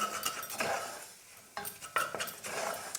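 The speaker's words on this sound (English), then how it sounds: "You keep stirring, really cooking that turmeric in with the ghee, wrapping it into the ginger" Turmeric and ginger stirred in hot ghee in a pot for a ginger soup, with soft scraping and clinking of a utensil against the pot and a faint sizzle, in close bursts with short pauses.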